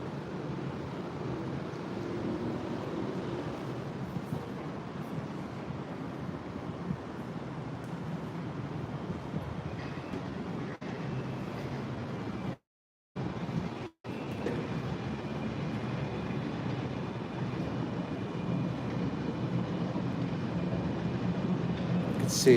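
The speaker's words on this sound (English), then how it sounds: "Sky train just coming past down there over the roads." A sky train passing over the roads, heard as a long, low rumbling roar mixed with wind noise, fairly distant and steady, briefly cutting out midway before resuming and swelling slightly toward the end.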